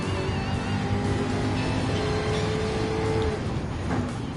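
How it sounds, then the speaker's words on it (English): A race car engine in Gran Turismo 7 during a World Touring Car 800 race, a loud sustained rev that climbs in pitch before dropping at a gear change, with other cars droning close behind. "gonna have to kick it up in the high gear"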